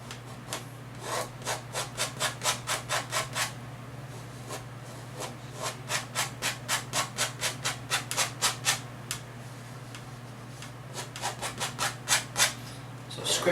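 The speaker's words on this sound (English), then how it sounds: "So scrape off any excess." Excess paint is scraped off a landscape painting in rhythmic runs of quick, rasping strokes, with several bursts separated by short pauses, close and moderately loud over a steady background hum.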